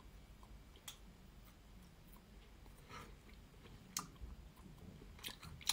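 Chocolate snapped apart and chewed close up, with a few sharp cracks and crunchy bites over soft, quiet mouth sounds and no talking.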